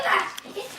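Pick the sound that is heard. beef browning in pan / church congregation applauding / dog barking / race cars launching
dog barking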